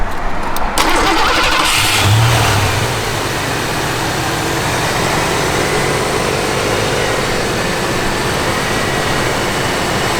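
A 1987 Ford Mustang LX cranks and fires in the first few seconds, then settles into a steady, loud idle that runs without a break for the rest of the clip, heard up close with no talking.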